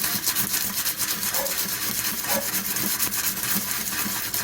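Rough-grit abrasive rubs rust off the metal blade of a hand tool in repeated close, gritty strokes, a continuous scratchy rasp with a regular back-and-forth rhythm.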